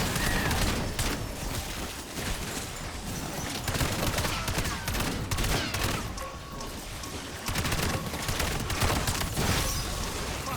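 Rapid, dense bursts of fireworks-like explosions pop and crackle almost without pause in Black Ops 7 Zombies, loud and chaotic throughout.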